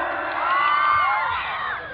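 A crowd cheers and whoops loudly together in a brief sustained burst of shouting, with no clear clapping standing out.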